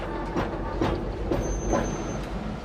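A shunting engine moves a 40-ton railway carriage in a North London railway yard: a steady rolling rumble with rhythmic wheel clacks repeating about every half second, fairly close and alone.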